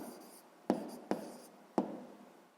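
Hand-written numbers going down on paper, a few soft scratchy pen strokes alone in a quiet room, close and faint, with brief pauses between marks.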